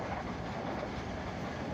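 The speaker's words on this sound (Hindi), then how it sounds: "अभी ये ज़ख़ीरे से जो है ना रेलगाड़ी गुज़र रही है।" A passenger train rolls past in Karachi with a close, loud, continuous rumble and wheel clatter that fills the whole moment.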